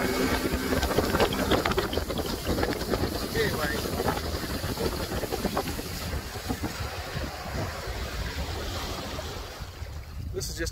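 A boat's outboard motor runs steadily on the water after sitting unused for a while, with a continuous rumble, wind buffeting the microphone and someone talking over it.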